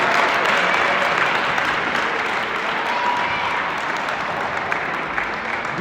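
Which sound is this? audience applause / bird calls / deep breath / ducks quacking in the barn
audience applause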